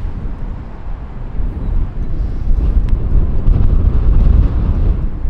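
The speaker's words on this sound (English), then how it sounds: "it's so windy, I have no idea what to do" Heavy wind roars and buffets the microphone throughout on a golf course, a loud, low rumbling gust that builds stronger toward the end.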